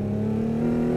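Mark Webber's Red Bull Racing car engine holds a steady, droning, harmonic tone. It stays loud and even across a brief stretch, with no talking.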